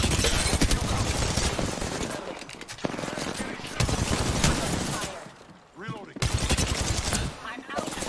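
Rapid automatic gunfire from an Apex Legends firefight, loud and close in dense bursts with brief pauses and a quieter gap near the end.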